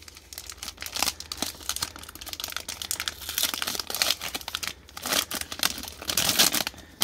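A 2017 Panini trading card pack being torn open, with dense, close crinkling and crackling of foil wrapper in irregular bursts, loudest toward the end, and no talk over it.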